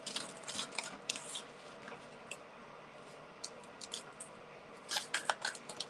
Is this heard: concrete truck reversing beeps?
no